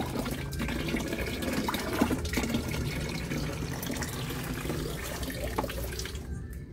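Water gushing steadily from a stainless steel manual water pump, a loud continuous splashing pour that thins out at the very end.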